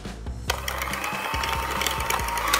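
Butter, sugar and mashed salted egg yolk beaten together for milk yolk buns, a close, steady whirring mixer with a rhythmic knocking against the bowl after a brief quiet start.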